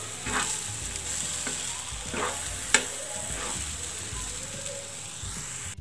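Pav bhaji stirred in a pan after lemon juice goes in, giving a steady close sizzle with a few soft scraping strokes of the spoon and one sharp clink near the middle.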